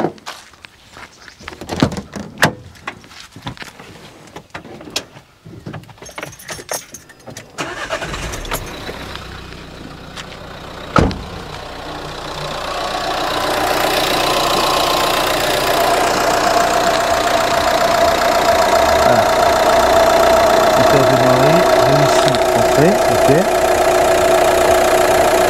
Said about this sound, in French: Donc, je vais aller démarrer le moteur.